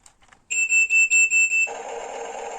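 A HUINA 1594 RC excavator's electronic sound effects: a run of loud pulsing beeps, then a steady whirring motor-like hum.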